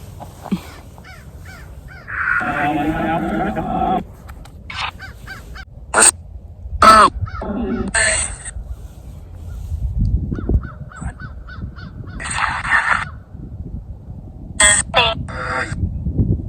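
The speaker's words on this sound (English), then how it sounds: "There's crows." Crows cawing outdoors near ancient mounds in Wisconsin, several loud harsh caws in short bursts, some close and some farther off, with quiet rustling and footsteps between calls.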